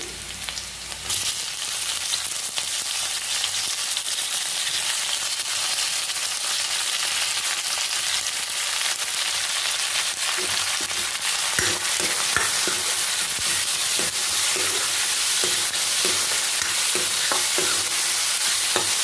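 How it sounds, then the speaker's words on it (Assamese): Chopped tomatoes go into onions that are browning in a pan, giving a loud, close, constant sizzle with repeated scraping stir strokes, the sizzle flaring up sharply just after the start. "পিঁয়াজৰ কালাৰটো অকণমান ব্ৰাউন নিচিনা হৈছে কাটি থোৱা বিলাহীখিনি দি দিম"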